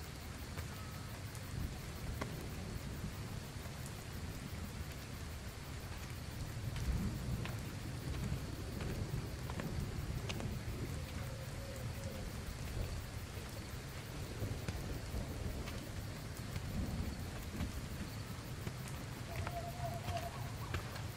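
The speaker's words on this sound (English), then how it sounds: "It sounds like it's raining," Rain falls steadily with low rumbles of thunder in the video game Gotham Knights, a continuous quiet hiss over a deep rolling undertone that swells around the middle, with faint tonal game sounds.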